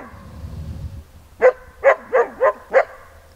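Outdoors near a mountain lake in the far north, a dog barks five times in a steady series of sharp, moderately close woofs, after a short stretch of quiet low rumbling.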